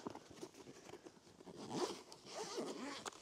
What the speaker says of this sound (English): Unzip the case.